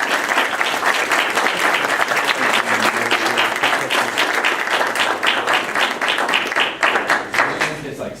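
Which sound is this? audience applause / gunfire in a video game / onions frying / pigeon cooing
audience applause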